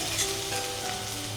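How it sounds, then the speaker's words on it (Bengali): Onion browning lightly in a pan sizzles steadily with a soft crackle, the short frying sound heard close and at a modest level. "পেঁয়াজটা হালকা করে ভেজে নিই, হালকা লাল করে"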